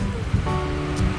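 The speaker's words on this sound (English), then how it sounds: "It's the ocean, baby!" Ocean waves wash and rumble at Uluwatu in Bali, a soft, brief surge of surf heard from a short distance, with no voices.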